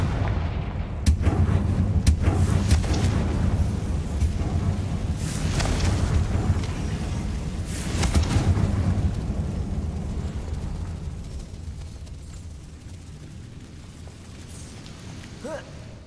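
Confringo fire spell in Hogwarts Legacy bursting into heavy booming blasts, loud and close, several impacts over the first half before the rumble fades into quieter ambience.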